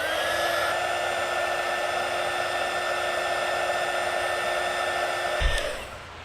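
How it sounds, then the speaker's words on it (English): Small craft heat gun used for shrinking heat shrink tubing blows with a steady whirring hiss and a high motor whine, close and constant, then clicks off and fades at the end. "this is actually a heat gun for like crafts and projects"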